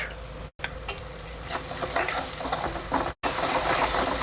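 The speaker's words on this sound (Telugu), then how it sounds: "అల్లం వెల్లుల్లిపాయ పేస్ట్ ఫ్రై అవ్వాలండి మినిమం ఒక 2 minutes" Onions frying in a pan with ginger garlic paste, turmeric and salt for pepper chicken fry, steady soft sizzling with scraping stirs, broken by two brief silent cuts.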